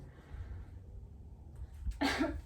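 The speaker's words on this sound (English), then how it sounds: "The final step of this breathing exercise consists of taking a deep breath and coughing twice." A demonstration of a breathing exercise: a soft, quiet inhale followed by two sharp, close coughs in quick succession near the end.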